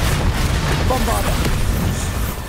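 A magical Bombarda explosion spell blasting in the Hogwarts Legacy video game, a dull booming burst sitting within a dense, continuous wash of game combat noise and low rumble, loud and close throughout.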